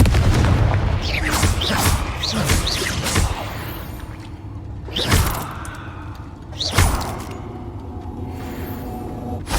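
Confringo blasting spells exploding in the Hogwarts Legacy video game: a dense run of booming blasts and whooshing bursts, with three sharp, loud explosive hits standing out among the continuous spell effects.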